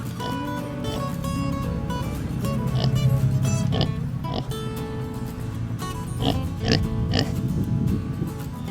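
Kunekune pigs grunting and snorting nearby in a steady low chorus, with occasional sharper squeaky oinks over a continuous background rumble.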